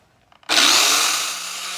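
A homemade circular saw blade sharpener starts with a few light clicks, then a loud, steady grinding whine sets in and holds, easing slightly as it runs, with no voices.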